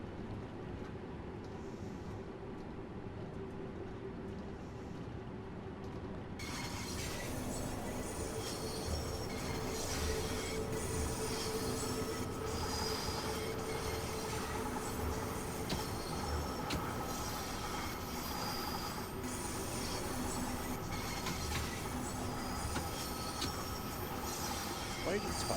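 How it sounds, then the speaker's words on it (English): A London Underground train on the Bakerloo line in the Train Sim World game rumbles along steadily with wheel squeal and rail clatter, and the sound swells sharply louder a few seconds in, then stays continuous and dense throughout. "Just to grab a London Underground train and just drive it on the Bakerloo line"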